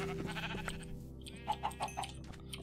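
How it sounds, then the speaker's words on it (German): Sheep bleat several times in a blocky Minecraft-style game, short rhythmic calls around the middle of the clip over a steady background hum of game sound and music. "hier sind ganz viele Schafe"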